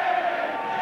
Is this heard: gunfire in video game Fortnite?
no